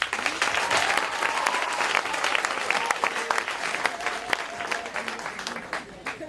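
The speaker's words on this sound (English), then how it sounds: "A very huge and humongous round of applause to them" An audience at a live-streamed event gives a warm round of applause, sustained crisp clapping from many hands that gradually thins toward the end, with voices faintly mixed in.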